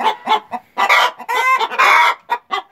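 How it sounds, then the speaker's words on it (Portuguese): Embrapa 051 hens cluck and cackle inside a busy henhouse as they get ready to lay eggs, in loud, close bursts of overlapping calls with short gaps and no talking. "a festa aqui no galinheiro que as galinhas fazem. Aí porque estão querendo botar."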